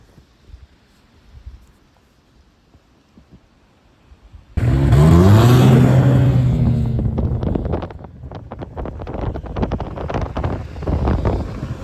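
Snowmobile engine running along the Newfoundland T'Railway, quiet at first, then a loud close roar that kicks in abruptly and holds steady with wind buffeting the microphone.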